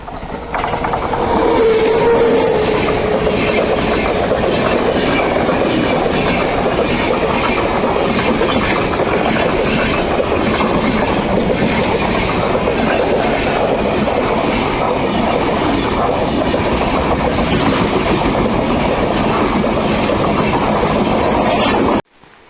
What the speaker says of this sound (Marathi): आता ट्रेन येते बघा स्पीड पण जबरदस्त आहे ट्रेनचा